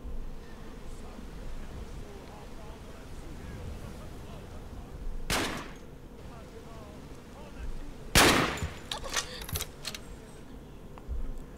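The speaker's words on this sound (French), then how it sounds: "j'ai tiré une balle d'M4 sur la pauvre Vélida" Two sharp, loud M4 rifle shots in a modded Skyrim, spaced a few seconds apart, each with a brief crack and rattling tail over quiet background hum.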